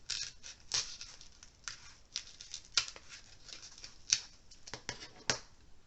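A small X-Acto knife slices a slot into a foam block, giving scattered short dry scratches and snips in irregular bursts, quiet and close with no talking.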